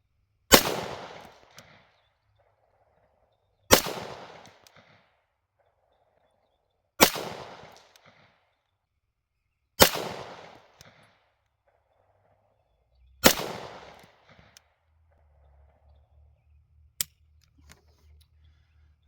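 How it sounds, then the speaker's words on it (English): Five sharp, close shots from a Springfield Armory XD Mod 2 .45 ACP pistol firing 230-grain Blazer Brass full metal jacket rounds, evenly spaced about three seconds apart, each with a short ringing tail. "We are loaded up with 5 rounds of Blazer Brass 45 auto in a 230"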